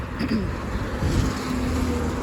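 A small sheriff's car drives past on a street, its engine and tire noise swelling briefly at close range.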